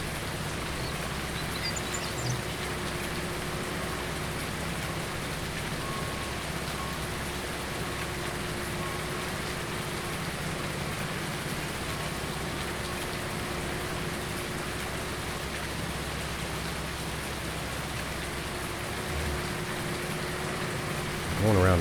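Steady rain in Farming Simulator 19 on PlayStation 4, a dense, even hiss that holds at a constant level through the whole stretch, with a low engine-like hum beneath it and no voices.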